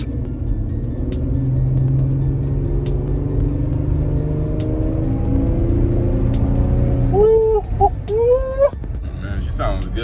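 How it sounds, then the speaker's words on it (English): An Infiniti G35 with its muffler and resonators still fitted runs with a deep engine drone that rises through a pull, close by, while a voice talks over the second half. "This will be the last pull with the muffler on and the resonators on."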